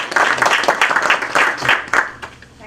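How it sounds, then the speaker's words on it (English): Close, loud applause from a small audience at an event honoring a Telangana MP in Chicago, clapping in uneven surges that taper off at the end. "Please give your applause."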